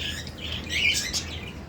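Cockatiels chirping at a breeding aviary, a few short bright calls overlapping near the microphone against a steady low background hum.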